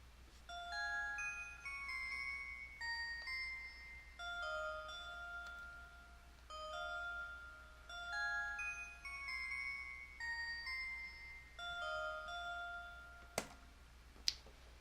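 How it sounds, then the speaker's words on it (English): A soft synthesized bell melody for a beat track: clear, chiming tones in a repeating pattern, playing alone with gentle sustain, then two sharp percussive clicks near the end. "this is by far the most beautiful bell I've ever composed."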